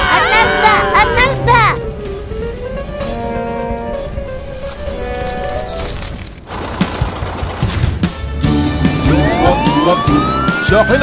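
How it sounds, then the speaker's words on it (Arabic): A cartoonish fire truck siren wail rises and falls over lively children's music, with a voice speaking alongside it. "شاحنة الإطفاء."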